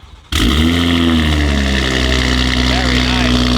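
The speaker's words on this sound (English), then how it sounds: "you can remote start the car" A G42 BMW M240i with a Valvetronic Designs exhaust fires up by remote start, an abrupt engine catch into a loud, steady idle rumble close by, with a slight rise in revs toward the end.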